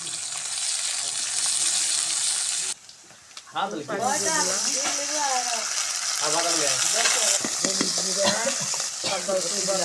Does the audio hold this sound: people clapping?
no